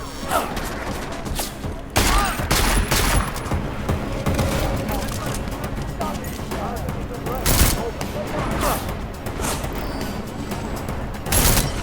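Gunfire rattles through a town street in Deus Ex: Mankind Divided, with loud bursts and booms and sharp peaks near the start and middle over a busy, continuous din.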